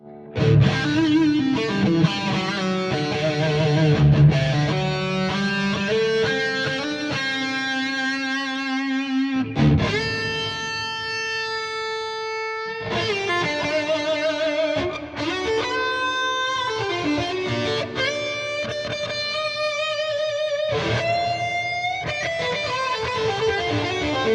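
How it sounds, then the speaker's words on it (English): Electric guitar with an overdriven amp tone plays sustained chords and single notes, each ringing out with a reverb tail between phrases. "Add a little bit of reverb."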